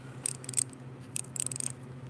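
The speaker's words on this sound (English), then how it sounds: "So everyone knows how wrenches sound, right? They sound like this." Ratchet wrench clicking in short bursts of rapid, close, crisp ticks, with two groups of clicks separated by a brief pause and no talk.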